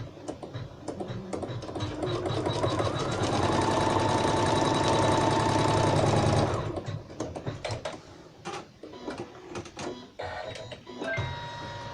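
A sewing machine stitches a fabric coaster, a loud rapid mechanical whir running steadily for about six seconds before it stops, followed by scattered clicks and handling noises.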